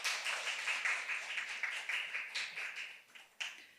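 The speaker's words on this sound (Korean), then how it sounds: "고생하신 겸사겸사팀에게 박수 부탁드리겠습니다" An audience at a youth social living lab judging session in Daegu gives a presenting team a moderate, fairly distant round of clapping that fades unevenly, with a few last claps near the end.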